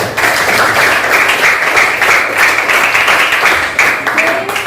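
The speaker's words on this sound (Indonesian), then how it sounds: "tepuk tangan untuk Helen." A crowd of people clapping steadily and loudly for several seconds, a dense, continuous applause with no talking over it.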